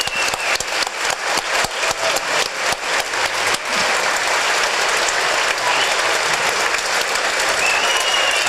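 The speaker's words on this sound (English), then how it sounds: "Round of applause." Applause from the crowd at a Cambridge Springs vs Meadville boys high school basketball game, dense clapping that starts in choppy bursts and then settles into a steady, sustained roar for about eight seconds, with no talk over it.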